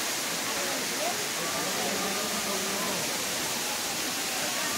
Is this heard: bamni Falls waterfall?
yes